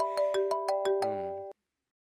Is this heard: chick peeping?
no